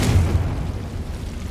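A Confringo spell explosion in Hogwarts Legacy lands as a deep rumbling boom that rolls and fades over about a second and a half, heavy in the low end.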